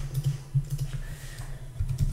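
Soft clicking of computer keyboard keys in an irregular sequence of taps, faint and close, with a low hum underneath and no speech.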